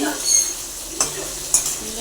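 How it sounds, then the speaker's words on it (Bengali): Steady sizzle of potatoes frying in a pan with a couple of sharp scraping clicks as a utensil stirs them. "আলুগুলো আমরা আবার নাড়তে থাকলাম ভালো করে লাল করে ভাজার জন্য"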